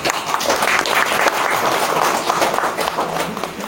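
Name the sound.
applause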